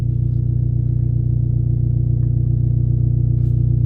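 A loud, steady low engine rumble drones on without pause, rough and throaty from a car's exhaust leak at idle.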